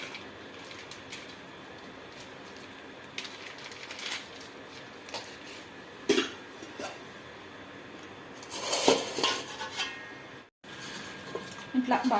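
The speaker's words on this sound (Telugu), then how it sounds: "ఇట్లా బాగా కలుపుకోవాలండి." A pot of biryani marinade with yogurt stirred and mixed by hand, giving scraping, clinking utensil-on-metal sounds in bursts, loudest toward the end, with someone speaking over parts of it.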